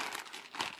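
A plastic bag crinkles around a sealed 3D puzzle, with soft, quiet rustles and crackles handled close up in brief rapid bursts.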